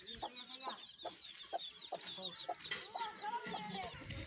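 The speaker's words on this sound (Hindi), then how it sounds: "ये मुर्गी के चिक्स हैं।" Hens and chicks clucking and cheeping in a rural yard with goats nearby, repeated short calls in an irregular rhythm, fairly close and moderately loud.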